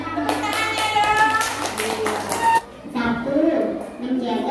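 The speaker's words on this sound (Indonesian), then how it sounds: "Tepuk tangannya dong." Classroom applause at an elementary school, brisk hand clapping under a talking adult voice for the first half, then a pause and quieter voices.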